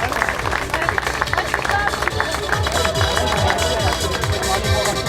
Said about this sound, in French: donnez un applaudissement pour Lynn, Manon et Alban.